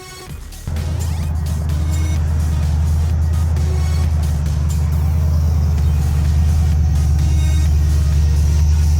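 An LS-swapped Oldsmobile Cutlass G-body with an overdrive swap cruises at highway speed, giving a steady, close, deep engine drone that kicks in loudly early on and holds evenly throughout.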